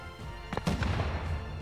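A satchel charge explodes in the Rust survival game on console, a single heavy blast that thumps up and then rumbles on behind steady background noise, with no voices over it.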